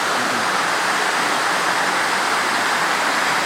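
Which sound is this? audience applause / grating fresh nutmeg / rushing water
rushing water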